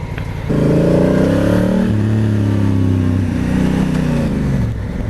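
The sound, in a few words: Honda CRF1000 Africa Twin motorcycle engine while riding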